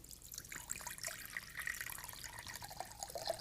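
Coconut water poured into a measuring cup, a soft continuous splashing trickle with small bubbly drips, fairly quiet and without talk.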